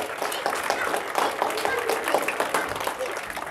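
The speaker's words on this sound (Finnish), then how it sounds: "Annetaan raikuvat aplodit." Steady audience applause after a celebrity fishing competition results announcement, dense clapping filling the room at a lively even level with no one speaking over it.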